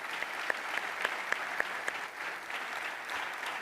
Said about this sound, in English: So I'm going to ask for a round of applause for Mark.